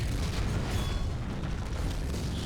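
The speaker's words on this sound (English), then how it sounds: "More explosions." Dense, continuous rumbling booms and bursts from explosions in a 2v2 battle arena video game tournament, loud and steady throughout with no distinct pauses between blasts.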